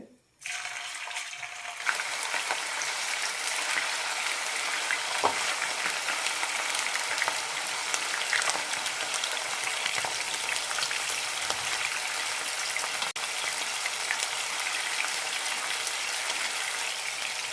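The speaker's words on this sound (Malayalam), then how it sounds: "ചിക്കൻ വറുത്തെടുക്കാം വെളിച്ചെണ്ണ തന്നെയാണ് ഒഴിച്ചിരിക്കുന്നത്" Chicken pieces for a chicken pickle frying in coconut oil over a medium flame, a dense, even sizzle that starts after a brief quiet moment and then holds steady and close, with no talk.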